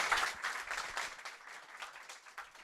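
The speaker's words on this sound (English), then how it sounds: "Please, may I ask for a round of applause for Otto once again." A round of applause from an office audience after a talk at a developer meetup, loud at first and then thinning out into scattered, uneven claps as it fades.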